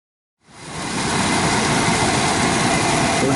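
A Trane XV90 gas furnace, a 120K BTU unit on a 5-ton system, fires up and settles into a steady, broadband roaring hum that holds evenly after a brief moment of silence, with no talking.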